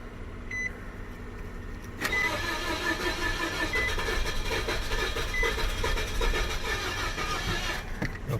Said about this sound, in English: let's see what happens if I crank it